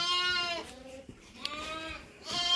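Sheep in a farm pen bleating close by, a few drawn-out wavering calls with short pauses between them.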